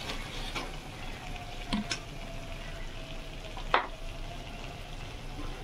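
Potatoes frying in hot oil for chana masala, a soft continuous sizzle with a couple of sharp clicks of a utensil against the pan, quiet and close with no talking.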